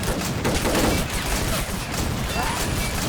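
Dense, continuous video-game gunfire from a green toy army men battle with tanks and jeeps crossing a bridge, rapid overlapping shots and rattling bursts filling the scene without pause.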